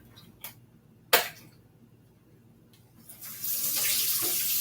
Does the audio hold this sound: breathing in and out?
no